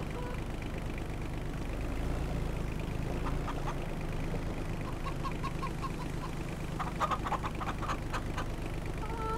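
Electronic-sounding hens in Farming Simulator 25 cluck and chirp in scattered short calls over a steady low engine-like hum.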